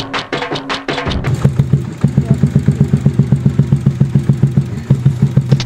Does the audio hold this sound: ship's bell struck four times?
no